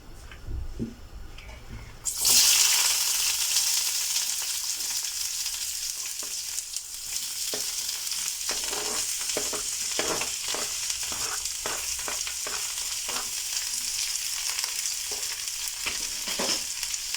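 Onions hit hot oil with a sudden loud sizzle that settles into a steady, close frying hiss, broken by the scrape of stirring for about fifteen seconds.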